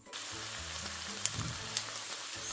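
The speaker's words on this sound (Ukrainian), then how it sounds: "Смажимо 2-3 хвилини гриби" Wild forest mushrooms sizzle steadily in a hot frying pan, a constant bright hiss with a couple of faint clicks and stirring noises.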